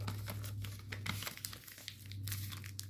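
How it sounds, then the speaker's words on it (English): Sheet of paper folded and creased by hand while making an origami fighter jet, close crinkles and soft rustling taps over a low steady hum. "you can turn the model over and petal fold"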